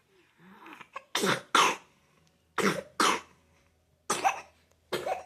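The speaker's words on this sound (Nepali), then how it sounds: "मेरो छोरीलाई खोकी लागेछ" Three pairs of sharp, close coughs from a child, each pair separated by quiet pauses.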